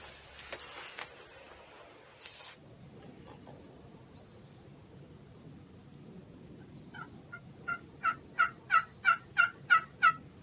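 A wild turkey gobbler gobbles in the morning woods, a quick series of sharp rattling gobbles rising in the distance over soft ambient noise, after a few faint clicks early on.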